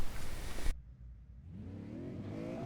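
A V8 Supercar engine in iRacing at Laguna Seca cuts out abruptly, then revs build steadily upward, a rising mechanical whine from a simulated race car.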